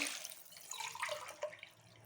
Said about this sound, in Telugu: ఇందులోకి త్రీ గ్లాస్ ఆఫ్ వాటర్ వేస్తాను